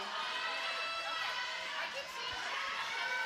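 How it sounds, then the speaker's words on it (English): A crowd at a roller derby game cheers and shouts steadily throughout, a dense wash of voices filling the venue. "Everybody's cheering on their team."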